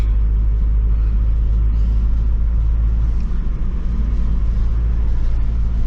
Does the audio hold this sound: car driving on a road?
yes